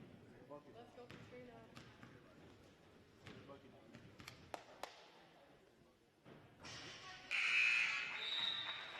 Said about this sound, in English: the final buzzer sounds to put the finishing touches on an outstanding win